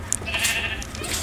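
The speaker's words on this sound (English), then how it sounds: "Why is there a sheep here?" Sheep bleats from the video game Minecraft, a few short nasal cries close up over a steady background of game sound.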